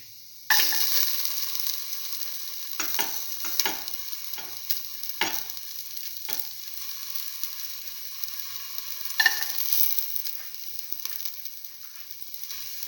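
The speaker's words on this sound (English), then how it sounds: "Put in the garlic" Garlic sizzles in a hot pan for a stew of eggplant and split mung beans, a steady crackling hiss with scattered utensil taps and stirring scrapes.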